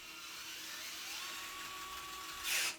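A power drill drives a screw that scrapes through paint while replacing network gear after hours, a steady whining motor drone with a rising pitch, then a brief louder burst near the end.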